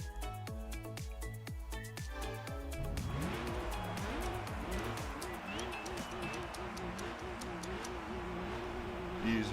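A Savannah RX-7 races in Gran Turismo 3, its engine revving up and down through gear changes with rising and falling whines over music, while a person talks.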